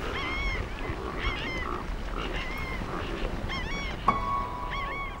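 Aquatic birds gathering to feed in a Cuban mangrove forest, with repeated honking and squawking calls of several birds near and far over a steady background hiss, plus one sharp click, no talk.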